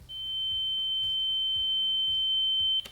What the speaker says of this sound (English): Next, we're gonna add this sound effect called ear ringing.